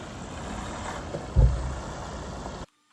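Concrete mixer truck arriving at a large concrete pour, a steady engine rumble with a low thump midway, then the sound cuts off abruptly.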